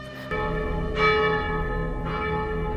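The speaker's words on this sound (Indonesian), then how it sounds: "Beberapa detik kemudian Maman membunyikan lonceng gereja" A church bell rings out loudly with long, rich resonance, struck again partway through so the overlapping tones keep humming.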